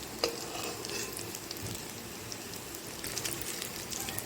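Fish and potato pieces fry in hot oil, a soft, low, continuous crackle with a sharp tap near the start, nobody talking.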